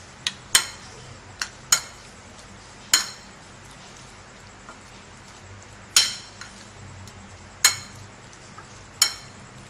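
A spoon mixes barbecue sauce in a bowl, giving a series of sharp, bright clinks at irregular intervals over a quiet background.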